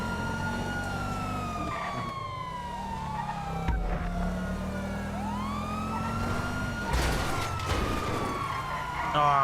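Police car sirens wailing in the video game GTA Online, several rising and falling tones overlapping over engine rumble, with crash thuds around the middle and near the end.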